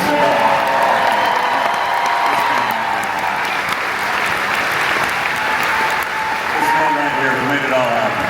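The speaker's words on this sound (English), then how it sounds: "let's have one last round of applause for Mr. Patrick Walt." Sustained audience applause with cheering and whoops at a Walt Disney World event, loud and continuous throughout, with voices mixed into the crowd noise.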